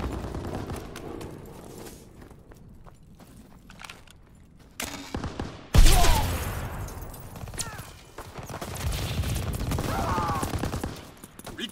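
Gunfire from a Call of Duty WWII multiplayer match: volleys of shots that build to a loud burst near the middle, then scattered firing and battle noise continuing under game voice lines.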